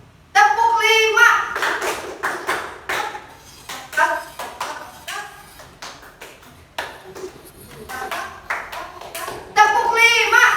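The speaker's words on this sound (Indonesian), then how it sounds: "tepuk 5." A class of learners claps in short rhythmic bursts of a counted pattern, sharp crisp claps in tight clusters, alternating with a teacher's voice speaking between rounds.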